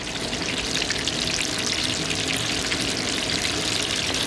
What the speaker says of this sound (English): If you're frying at 350 versus 400, it's double time in the oil.